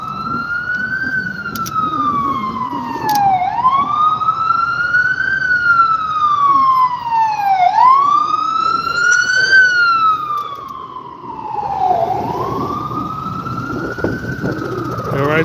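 Emergency vehicle sirens near St. Barnabas Hospital in the Bronx, a loud wailing siren rising and falling in repeated sweeps over low traffic rumble.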